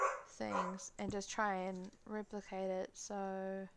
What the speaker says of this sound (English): Oh, I'm sorry about my dog.